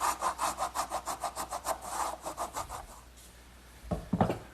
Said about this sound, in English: now a little bit of work with a wood rasp, and that'll finish up the inside of this mortise.